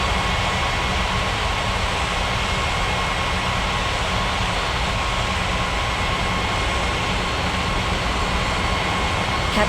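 An airliner takes off from runway 35 right in a 3D flight game, a loud, steady engine roar that holds evenly for about ten seconds with no voices.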